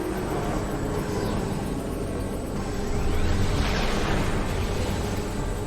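A phazon shot explodes in Metroid Prime 2: Echoes, a broad rumbling blast that swells around the middle and fades against continuous game noise, with no speech.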